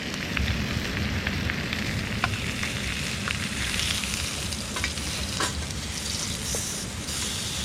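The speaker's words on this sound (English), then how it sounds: "I'm gonna try and give this steak a flip now" A ribeye steak sizzles steadily in a hot pan, a dense, continuous frying hiss with scattered crackles and pops, close and fairly loud, with no voices.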